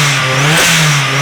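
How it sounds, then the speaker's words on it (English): Nissan S15 engine running warm and healthy, holding a steady mid-pitched revving tone with a brief rise near the middle, loud and close throughout with no talk. "The engine sounds super healthy."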